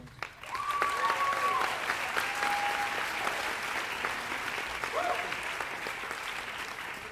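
Applause from a commencement ceremony audience welcoming a poet laureate to the stage, a dense, steady wash of clapping that holds at full strength for the whole stretch with a couple of faint tonal whistles above it.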